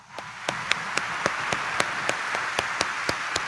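Congregation in a church applauding during a homily, loud rhythmic clapping in unison, about four even claps per second, sharp and close over a low background murmur.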